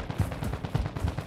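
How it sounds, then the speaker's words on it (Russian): Gunfire in Warzone 2 DMZ, a regular stream of dull, low thumping shots about four per second, muffled and fairly distant, with no talking over it. "Стреляет где-то."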